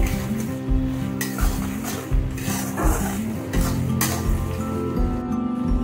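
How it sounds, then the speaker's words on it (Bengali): A spice paste with ginger paste fries and is worked down in a pan for a pomfret fish curry, giving a steady sizzle broken by repeated clinks and scrapes of a spoon against the pan. "দিয়ে দেবো 1 চামচ আদা বাটা। মশলাটাকে আমি কষতে থাকবো।"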